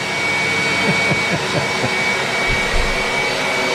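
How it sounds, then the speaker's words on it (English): A household hoover drawing air out of a plastic bag wrapped around a motorcycle, a steady loud strained motor whine with a rough low rumble throughout, close by and continuous. "We're now sucking the air out of this bag with a motorcycle inside it. Hoover's struggling away."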